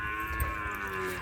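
A low, drawn-out mooing from a calf, steady and moderately loud, with faint background hum.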